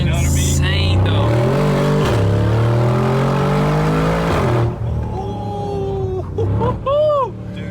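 A rebuilt, previously wrecked 2022 Mercedes G63 G Wagon accelerates hard, its loud engine climbing in pitch through a couple of gear changes before easing off, followed by a few whining, rising and falling tones.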